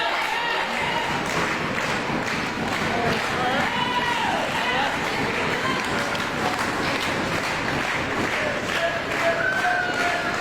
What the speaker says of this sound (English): a crowd here in attendance, loudly in support of the Game Changer, Christian Blake, here at Fright Night